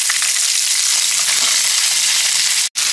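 Cauliflower hits hot oil with a loud, dense, hissing sizzle that holds steady and close, cut off abruptly near the end.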